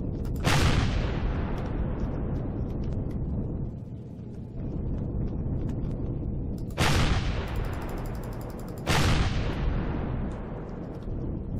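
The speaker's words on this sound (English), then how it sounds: "He's shooting at us. He is shooting at us." Enemy gunfire in the space game Empyrion lands as three heavy booming blasts, each with a long rumbling decay, spaced several seconds apart over a steady low background.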